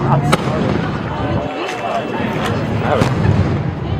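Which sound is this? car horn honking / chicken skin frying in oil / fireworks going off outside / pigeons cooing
fireworks going off outside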